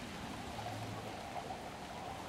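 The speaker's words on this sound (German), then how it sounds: "Es regnet in der Wüste." Soft, steady rain falls over a desert in the video game Guild Wars 2, a faint, even hiss with no voices.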